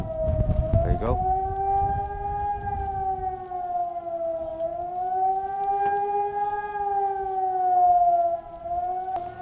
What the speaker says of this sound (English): It's like the old World War II siren